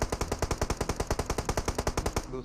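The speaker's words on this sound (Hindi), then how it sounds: "उसने हमारा काम आसान भी कर दिया फायर करके" Rapid automatic gunfire from an enemy player in the mobile battle-royale game BGMI, a rhythmic burst of roughly two dozen evenly spaced loud shots, with no talking.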